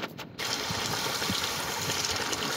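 Water hisses and gushes steadily from a loose fitting on a cheap self-priming automatic water booster pump, a close, continuous rush that starts abruptly after a brief quieter moment.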